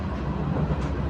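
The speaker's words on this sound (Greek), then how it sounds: "Είμαστε στο τρένο" Riding aboard a moving train on rails: a steady, fairly loud low rumble with faint rolling clatter runs the whole time, with no talking.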